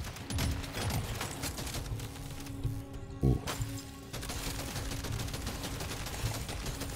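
Rapid bursts of gunfire in the video game Deep Rock Galactic: Survivor, a dense stream of shots over layered game sounds, with a brief louder thump midway.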